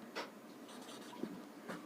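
Someone writes on a board during a maths lesson. Faint, short scratchy strokes come in a few separate bursts against quiet room tone, with no talk.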